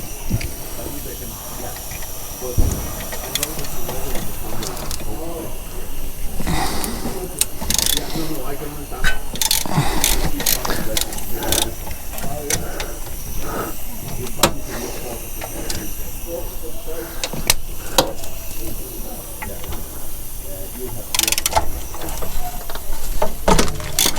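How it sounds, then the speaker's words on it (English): Tools undoing 13 mm bolts on a VW Transporter drive shaft, with repeated metallic ratcheting clicks and clanks over steady background hiss and occasional talk. "Now we're gonna undo these two bolts."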